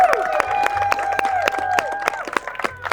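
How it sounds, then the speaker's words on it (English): Audience at a mixologist competition in Antigua and Barbuda applauding the bartenders, scattered close claps with some cheering over sustained tonal background sounds, thinning toward the end. "Let's give them a round of applause."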